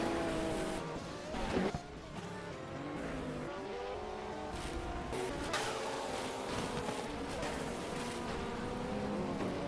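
Race car engines roar continuously in a Le Mans series video game at Estoril, with tire squeal and a brief sharper impact as a car strikes the wall, loud and close under a dense, steady drone.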